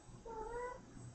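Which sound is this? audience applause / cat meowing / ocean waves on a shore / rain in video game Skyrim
cat meowing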